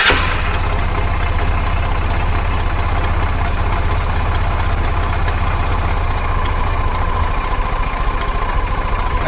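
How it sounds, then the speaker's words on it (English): A motorcycle engine under charging-system testing cranks and fires at once, then settles into a loud, steady idle that stays close and unbroken with no voices. "So I start the engine again."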